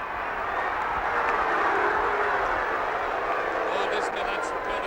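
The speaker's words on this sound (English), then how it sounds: "Oh, listen to that St Kilda crowd." Large St Kilda crowd at the 1966 VFL Grand Final against Collingwood roars in a broad, sustained wash of cheering that swells slightly and holds steady throughout.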